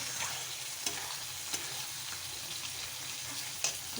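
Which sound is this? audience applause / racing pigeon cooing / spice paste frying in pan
spice paste frying in pan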